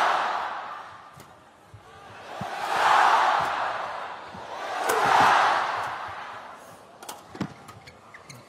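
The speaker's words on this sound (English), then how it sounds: "The crowd absolutely enjoying themselves here." A badminton arena crowd cheering at a Badminton Asia Championships doubles match, with two swelling roars that rise and fade a couple of seconds apart, followed by scattered claps and thuds.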